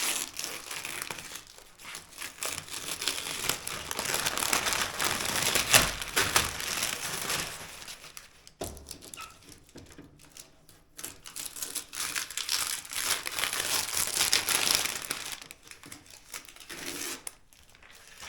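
Masking paper being peeled away from freshly painted panels of a 1982 air-cooled VW Vanagon Westfalia, giving steady close crinkling and tearing rustle in two long bursts separated by a brief pause.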